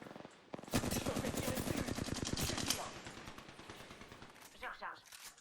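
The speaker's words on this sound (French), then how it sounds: "On me tire dessus." Automatic weapon fire in Apex Legends, a long rapid burst of loud, close shots that rattles on for a couple of seconds before tapering off, with an in-game voice speaking over it.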